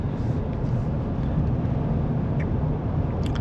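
Low, steady rumbling road and wind noise inside the cabin of a 2024 Ford F-150 XLT 4x4 with a 3.5L V6 hybrid while driving, a constant muffled drone with no talking.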